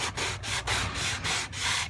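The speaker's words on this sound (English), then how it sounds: "I'm sanding off this perforation right here." Sandpaper rubs back and forth over the perforated edge of a sheet of double-sided craft paper, making quick, even rasping strokes about four times a second, loud and close with no talking.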